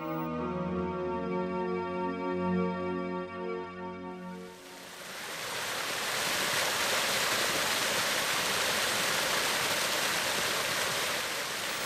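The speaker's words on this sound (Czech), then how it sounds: "natočili zajímavý vodopád, který se prodral skalní hrází uzavírající údoličko" A waterfall in the deep valley of the Satina stream, at the northwest foot of Lysá hora, bursting through a rock barrier, roars as a dense, steady rush of water after a stretch of sustained musical tones fades away.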